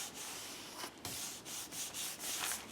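Fingers rub down a glued book spine, a close, soft, dry rubbing with repeated short strokes and brief pauses, quiet and with no voices.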